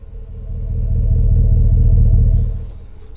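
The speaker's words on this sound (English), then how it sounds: "The engine has got a pretty decent little growl to it." A 2020 Ram 1500 Laramie pickup's V8 engine idles close by, a steady low rumble that builds slightly, holds, then eases off over a few seconds, with no talking.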